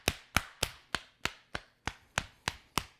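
Ten sharp, evenly spaced claps of a cupped hand on the body around the chest, each a crisp slap with a quick decay, about three per second, close and alone.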